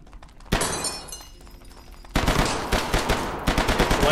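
Gunfire in the underwater horror shooter Hidden Deep: a loud single blast, then after a pause a sustained rapid string of shots with crashing impacts. The shots are close and heavy.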